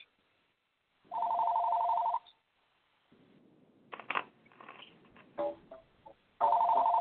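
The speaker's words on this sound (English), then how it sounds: "Now my patient phone is ringing" A patient phone rings through a CallMyDoc patient callback app linked to Allscripts, with two loud electronic ring bursts, one early and one at the end, and quieter clatter between them.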